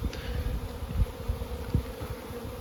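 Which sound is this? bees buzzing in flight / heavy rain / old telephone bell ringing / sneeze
bees buzzing in flight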